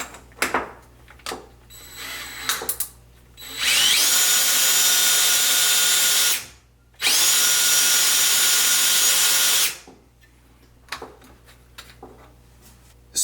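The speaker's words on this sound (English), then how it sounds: "let's see what happens if we hook it up to a drill" A power drill whirs at high speed in two sustained bursts, loud and steady, with a brief gap between them, spinning a brushless motor, surrounded by quieter handling clicks and knocks.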